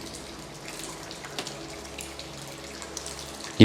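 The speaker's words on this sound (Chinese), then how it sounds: "里面好大的水流啊！ 我听到哗哗在响。" Underground river rushing through a cave in the Guizhou mountains, a continuous broadband roar of flowing water echoing in the chamber, steady and fairly close, with no talking.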